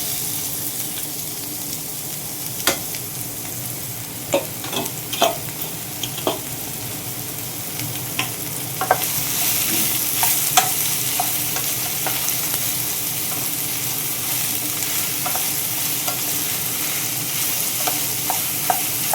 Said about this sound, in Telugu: ఇప్పుడు మనం ఈ కట్ చేసి పెట్టుకున్న సొరకాయ ముక్కలు ఉన్నాయి చూసారా, అవి వేసేసుకుందాం